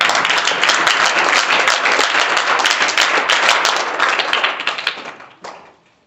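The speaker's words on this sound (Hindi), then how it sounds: "संसद की शुरुआत जोरदार तालियों के साथ।" A classroom of students bursts into loud, dense clapping at the start of an assembly, sustained for about five seconds before thinning out and stopping abruptly.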